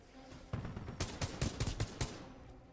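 Enemy gunfire in Titanfall 2 multiplayer, a quick rattling string of about a dozen sharp shots across two seconds, fairly close and loud.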